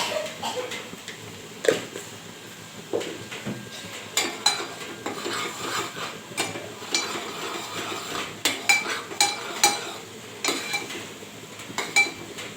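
A dal mixture is sautéed in a pan, with repeated clinks and scrapes of a spoon against metal, irregular stirring strokes and faint sizzling underneath, close and fairly loud.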